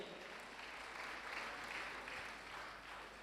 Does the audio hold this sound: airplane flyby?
no